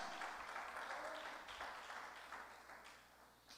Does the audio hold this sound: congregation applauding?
yes